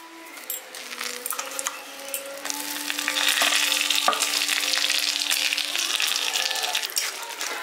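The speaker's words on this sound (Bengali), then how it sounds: "সব গোটা মশলাগুলো দিয়ে দেওয়ার পর এটাকে ভালো করে একটু ভেজে নিচ্ছি" Whole spices, including bay leaves, whole garam masala and black peppercorns, frying in hot oil, the sizzle swelling from a light crackle to a dense, steady hiss with a few clinks close by.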